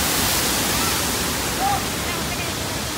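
The Panaluya waterfalls at Río Hondo, Zacapa, Guatemala pour with a dense, loud, continuous roar of rushing water that fills the whole scene, steady throughout, with a voice faintly underneath.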